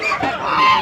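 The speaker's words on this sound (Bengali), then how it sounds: "এই যে মুরগি দেখেন" Chickens at a village duck and poultry market in Sirajdikhan cluck loudly and close in a short, busy burst with no talk over it.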